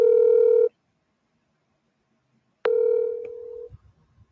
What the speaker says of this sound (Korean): 전화를 주셔서 전화를 연결 중에 있습니다